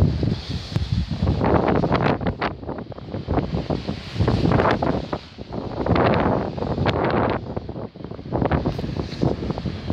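High winds in Essex, UK buffet the microphone in loud, roaring gusts that swell and fade every few seconds, with rustling in the background and no voices.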